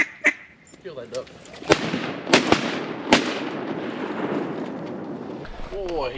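Several sharp, loud shotgun blasts ring out close by during an Arkansas public-land duck hunt in high water, spaced irregularly over a few seconds, with people talking and ducks quacking around them.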